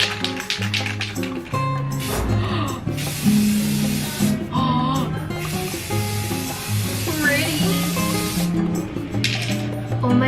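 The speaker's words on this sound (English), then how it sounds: "So I'm gonna spray paint this into gold and this one into white." Bursts of aerosol spray hissing from a paint can, a few seconds each, over steady background music.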